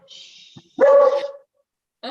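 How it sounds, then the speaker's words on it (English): A dog barks once, close and loud, preceded by a softer whine or yip, with a brief follow-up sound at the end. "I can hear a dog though."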